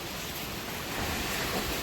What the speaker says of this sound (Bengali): কি জোরে বাতাস বইছে গাইজ।